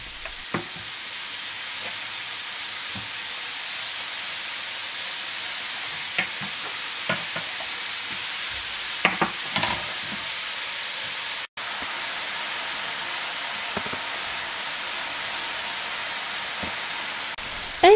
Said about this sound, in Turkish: Gördüğünüz gibi hiçbir yağ eklemeden kendi yağında köftelerimiz güzelce kızarıyor.